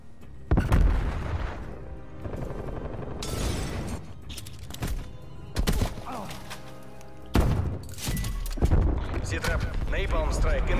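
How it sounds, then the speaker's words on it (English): Napalm strike in Call of Duty Cold War, a series of heavy booming explosions and thuds spaced a few seconds apart, loud and close, with a voice talking between blasts. "Enemy napalm strike incoming."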